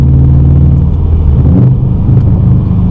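A car engine, heard from inside the car, rumbles loud and steady while the driver rev-matches a downshift from third to second gear. The note dips and then rises briefly with a blip of the throttle.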